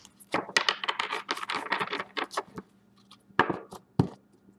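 Tarot cards riffle-shuffled in the hands, a dense run of crisp papery flutters and snaps followed by a few sharper taps as the deck is squared, close and alone.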